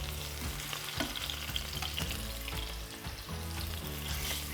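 Lamb shank pieces browning in a hot pan give a steady, close sizzle and frying crackle, with occasional stirring scrapes and no voices.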